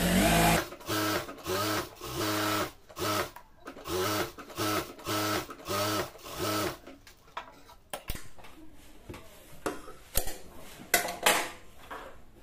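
A sewing machine stitches along the edge of salwar fabric in about seven quick, even bursts, each a loud mechanical whir. Quieter clicks and handling noises of cloth and parts follow.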